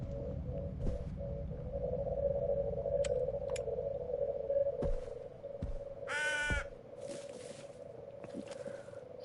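A single harsh crow caw rings out in the horror game Visage over a low droning hum, with scattered faint clicks and knocks around it.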